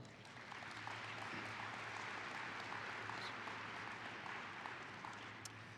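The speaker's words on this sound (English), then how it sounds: "Give yourself a round of applause." Steady, even applause from a conference audience fills the room, a dense wash of many hands clapping at a distance, fairly soft and unbroken throughout.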